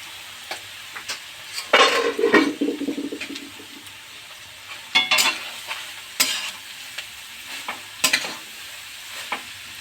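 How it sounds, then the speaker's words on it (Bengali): Chopped carrots fry in ghee for a carrot halwa, with a continuous sizzle and bursts of stirring and scraping at the pan, some loud and close, and no talking. "কেটে রেখেছিলাম গাজরটা, সব দিয়ে এই ঘিতে ভাজতে হবে।"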